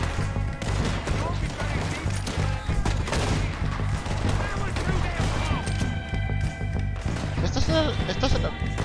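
Rapid, repeated gunshots from a rifle that must be reloaded after each shot in Red Dead Redemption 2 crack over a constant low rumble and clatter, dense and loud throughout, like a firefight.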